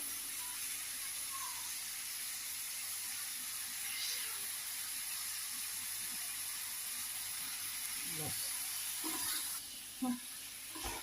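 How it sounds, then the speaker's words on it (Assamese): Mutton pieces fry in a pan with salt for a simple mutton curry, giving a steady, quiet hiss and sizzle with a few soft clinks and stirring scrapes near the end. "এয়া নিমখটো দি মাংসটো 5 মিনিটমান এনেকৈ ভাজি থাকিব"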